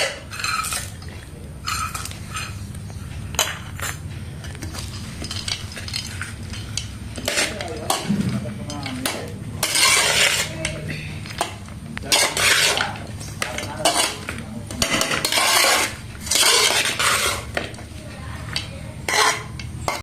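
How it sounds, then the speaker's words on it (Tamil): Peanuts being stirred into tamarind rice in a pan, with repeated metal spoon scrapes and clinks against the pan coming in bursts throughout, close and fairly loud with no talk. "இப்போ போட்டு மிக்ஸ் பண்ணிக்கலாம்."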